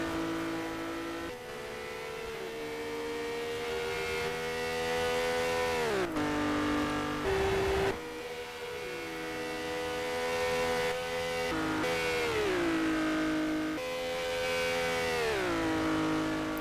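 A race car on a hotlap at Spa-Francorchamps, engine revving high and climbing through the gears, with repeated sharp drops at each upshift or braking point, loud and continuous from onboard.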